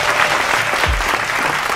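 An audience claps steadily through a short stretch at a music show, a dense continuous patter of many hands with a low thump near the middle.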